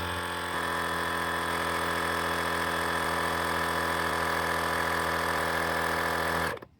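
A GOOLOO GT160 portable air compressor inflates a car tire, running as a loud, steady mechanical drone with a rapid buzzing pulse for several seconds before shutting off abruptly near the end.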